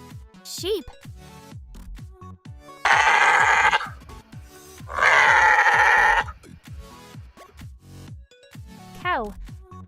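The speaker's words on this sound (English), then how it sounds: "Sheep." A sheep bleats twice, two loud wavering calls about a second apart, heard over soft rhythmic background music.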